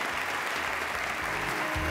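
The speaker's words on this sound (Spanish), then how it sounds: "un fuerte aplauso sí," Steady, fairly quiet applause from a gala audience at a village beauty contest final, continuous broadband clapping with a faint low voice murmuring underneath.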